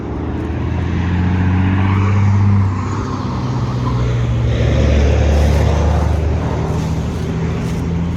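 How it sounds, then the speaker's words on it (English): A loud truck passes close by on a road, its engine drone swelling and holding with low tonal rumble across the whole stretch, no voices heard. "That truck is loud."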